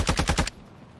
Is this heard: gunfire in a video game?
yes